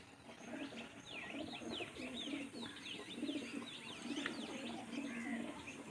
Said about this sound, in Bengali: এটা হচ্ছে মাদিটা, টিবলার মাদি।